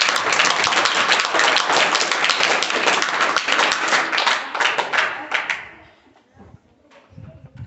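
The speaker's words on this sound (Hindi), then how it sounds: "इसकी मुस्कुराहट पर ताली बजाओ" Children applaud in a classroom during a maths lesson, a dense burst of clapping that stays steady for about six seconds, then thins out and fades, with faint voices audible underneath.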